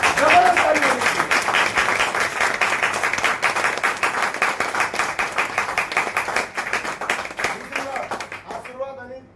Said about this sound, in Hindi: गणेश रॉय जी के लिए एक जबरदस्त ताली होनी चाहिए, जबरदस्त ताली होनी चाहिए।